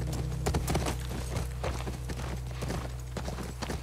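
Steady clip-clop of horse hooves walking in the video game The Last of Us Part 1, close and rhythmic over a low ambient game hum, with no talking.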